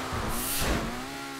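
Car engine revving in a video game as the tuned car launches into a jump, a steady mid-pitched drone rising briefly and then holding, close and continuous without speech.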